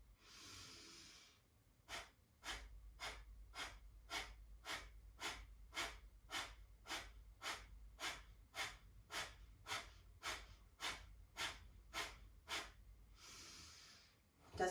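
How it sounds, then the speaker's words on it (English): Rapid puffing breaths of a Prana Vayu breathing practice, about twenty sharp, evenly spaced exhales in a steady quick rhythm, close and clear, framed by a longer hissing inhale at the start and another near the end. "Breathing in, puff, puff, puff, then breathe in again, breathe out normally, and then second round."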